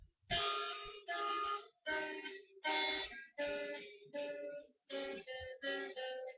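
Guitar playing a passage, heard as about eight separate strummed or picked chords with short gaps between them, close and fairly quiet.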